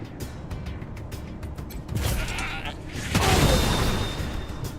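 A goat bleats in the Wasteland 3 video game, its cry mixed with rumbling booms and bursts of combat noise that swell toward the end.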